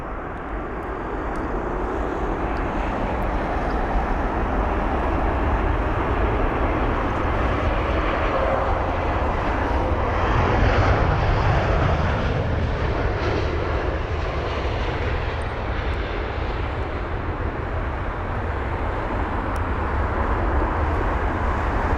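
An Airbus A320 airliner on the runway at London Heathrow gives a continuous loud jet engine roar, broad and rumbling, holding steady throughout with a slight swell in the middle.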